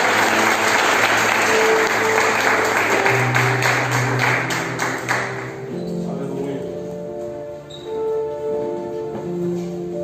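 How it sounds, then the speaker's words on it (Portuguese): A church congregation applauds, a full dense roar of clapping for about five seconds that then drops away, leaving soft organ or keyboard tones sustaining underneath. "Quem crê nessa palavra, dá um aplauso ao Senhor."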